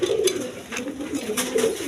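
Domestic pigeons kept for sale coo in a short burst of soft, throaty calls, close and clear, with a faint voice in the background.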